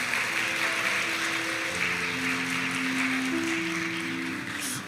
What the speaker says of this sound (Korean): 나오실 때 큰 박수로 한번 환영하면 좋겠습니다